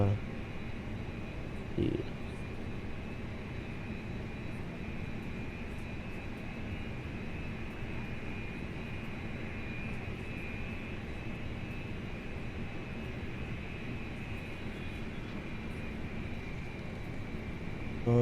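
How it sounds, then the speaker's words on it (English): An Air India airliner departs in Microsoft Flight Simulator 2020, heard as a faint, steady jet drone that holds an even level throughout. "There's an Air India departing."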